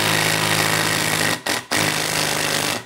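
A loud, continuous Triton T20 impact driver whir with a rapid hammering rattle as it drives a screw into a workbench, broken by two brief pauses before running on and fading at the end.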